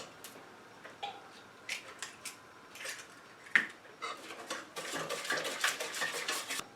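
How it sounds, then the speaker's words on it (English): A spoon clinks and scrapes around a bowl while eggs are stirred one at a time into cocoa-powder brownie batter, a soft irregular tapping that grows busier and more continuous toward the end, with no one speaking. "I need to add 2 eggs, but I'm going to put them in one at a time and stir them up really good after each one"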